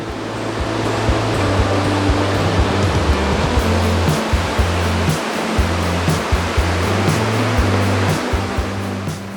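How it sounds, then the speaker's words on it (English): Ocean waves wash onto a Pacific beach near Third Beach, a loud, steady broadband roar of surf heard close and alone, with faint recurring low tonal hums running beneath it. "let the waves' white noise settle over me"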